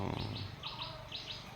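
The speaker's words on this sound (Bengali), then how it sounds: "অনেক পাখির ডাক শোনা যায় না" Birds chirping around a village in Raipur, Baliakandi, Bangladesh: several short, bright repeated tweets in quick pairs, moderately close over a low outdoor hum, no talking.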